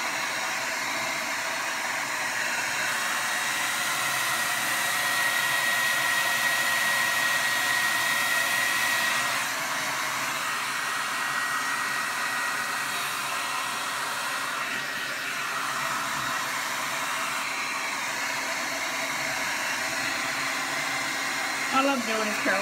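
Hair dryer blowing steadily as short hair is blow-dried and styled, a continuous airy whoosh at moderate level that keeps going throughout with slight changes in pitch.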